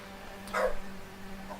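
A single short dog bark close to the mic cuts through a steady low hum, followed by a faint second yip.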